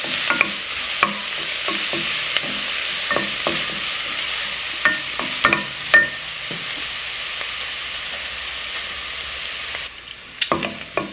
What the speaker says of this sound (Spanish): Y vamos a dejar que se suavice lo que es la cebolla por un minuto.